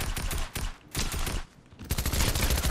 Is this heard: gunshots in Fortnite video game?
yes